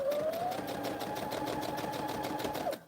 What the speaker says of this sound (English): then I'm just going to keep on sewing